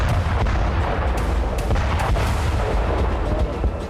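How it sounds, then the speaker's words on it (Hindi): Explosive strikes on Houthi targets in Yemen, heard as a dense, continuous rumble of heavy booms and crackling blasts that stays loud and unbroken throughout. "हमास हिजबुल्लाह के बाद यमन पर बारूदी आघात"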